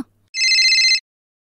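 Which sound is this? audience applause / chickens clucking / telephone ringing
telephone ringing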